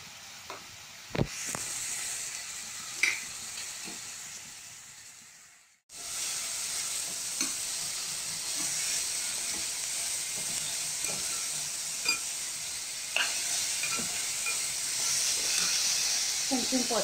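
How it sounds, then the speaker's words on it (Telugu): Samosa filling of green chillies, curry leaves, coriander and turmeric frying in a pan, a steady close hiss and sizzle with occasional sharp clinks, briefly dropping out before resuming loud and continuous. "ఇది బ్రౌన్ కలర్ వచ్చే వరకు ఫ్రై చేసుకున్నాము."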